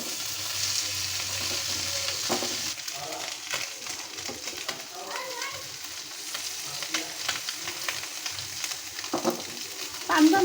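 Chanda fish frying in a pan, a steady close sizzle with scattered crackles and occasional scraping stirs, while birds coo faintly in the background.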